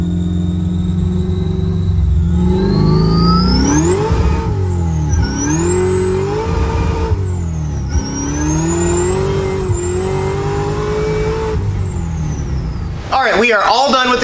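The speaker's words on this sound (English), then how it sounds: "we got the Camaro off the dyno, going for a nice little ride right now" A 1967 Camaro with a Magnuson supercharged LSA engine drives on the road, the loud engine revving up and down through several gear changes, with a whining supercharger rising and falling above the rumble and voices near the end.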